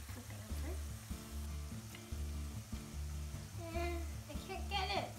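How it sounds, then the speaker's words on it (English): Potato latkes fry in oil in an electric fryer, a steady sizzle under a rhythmic background beat with a few brief bright squeaks near the end. "They're getting all nice and crispy. We're using an electric fryer so the temperature stays even."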